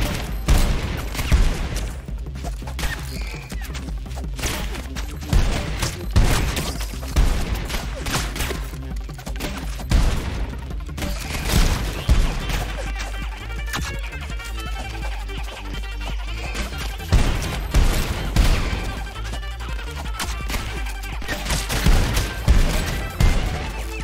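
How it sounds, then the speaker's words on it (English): Ricochet bullets fire in the ROUNDS rogue-lite gun fighter game as a dense, continuous volley of rapid gunshots and impacts with repeated sharp bursts over a busy game mix, no voices. "Him and his damn ricochet bullets."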